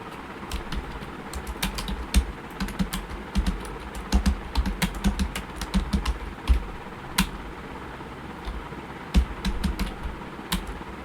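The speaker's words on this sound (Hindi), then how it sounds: "अभी इतना ही टाइप करके देखते हैं" Typing on a computer keyboard during a dictation typing test: close, quick, uneven key clicks in bursts over about eleven seconds, alone with no voices.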